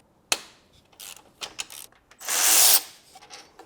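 A ratchet works on the power steering pulley of a BMW E39 530i Touring, giving scattered metallic clicks and taps followed by a longer burst of rapid ratcheting, close up with no talking.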